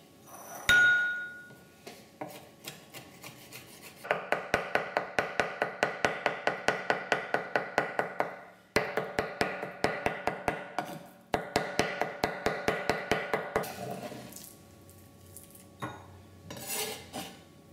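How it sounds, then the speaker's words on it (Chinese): Peeled shrimp are minced with a knife on a cutting board for dumpling filling: three bursts of fast, even chopping, each a rapid run of sharp taps with short pauses between, close and clear with no talk. "下面再把这虾仁剁碎"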